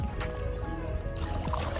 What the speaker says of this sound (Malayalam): നമ്മുടെ അജിൻ ബ്രോയാണ് വള്ളം തുഴയുന്നത്.